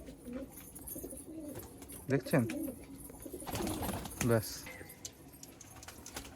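Malwai pigeons at a sale near Dhamua station give a few close, soft coos in short bursts while someone talks nearby.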